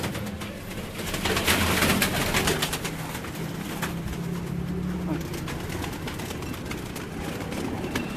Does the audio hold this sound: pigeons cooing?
yes